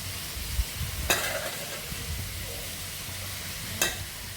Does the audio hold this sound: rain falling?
no